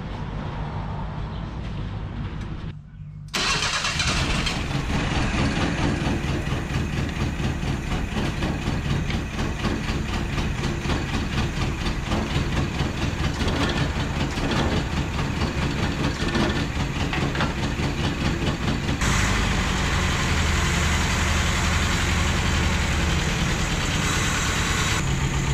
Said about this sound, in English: we've got her holding a decent idle right now